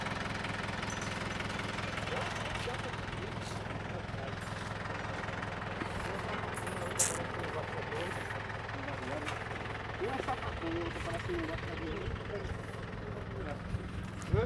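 A tractor engine idles with a steady, rumbling drone throughout, heard on a banana farm while bunches are loaded nearby, with a few faint knocks and clatters over the constant hum.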